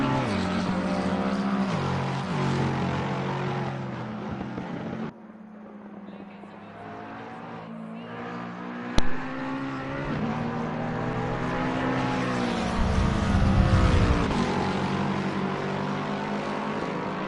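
Race car engines roar around Monza in a racing video game, layered whining engine tones rising and falling as cars pass, with a brief sharp spike partway through and commentary-style voices faintly underneath.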